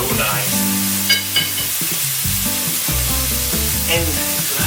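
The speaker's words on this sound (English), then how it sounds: "Time to turn my bacon around." Bacon sizzles and crackles steadily in a frying pan, a loud, continuous frying hiss with occasional pops close by, while the strips are turned.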